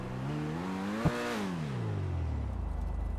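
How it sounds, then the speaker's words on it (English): Engine of the Toreador sports car in GTA 5 Online revving up and winding down, a single throttle blip with a rising then falling harmonic whine, fairly quiet and heard alone without talk. "listen to how the car sounds"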